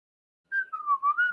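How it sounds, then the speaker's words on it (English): A single clear whistle follows a moment of silence, a pure tone that wavers slightly in pitch and holds for about a second. "Can anyone hear whistle?"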